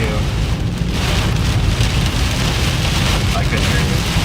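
Heavy rain pounds a moving car during a storm in Missouri, a loud, dense, continuous roar of drops drumming on the vehicle with low rumbling underneath.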